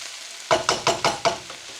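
Vegetables for a hoisin pork and noodle stir fry hiss in a hot pan over medium-high heat, with five or six quick, close bursts of sizzle in a brisk rhythm, as if tossed, fading into a softer crackle.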